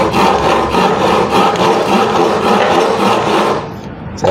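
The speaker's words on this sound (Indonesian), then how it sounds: "jadi akan saya gergaji di sebelahnya di sini" A long-toothed hand saw cuts through wood in a steady, loud, rasping back-and-forth rhythm close by, easing off slightly at the end.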